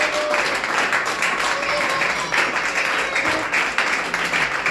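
Church congregation applauding during a French-language worship service, a dense, sustained round of clapping from a crowd in a hall, with voices calling out over it.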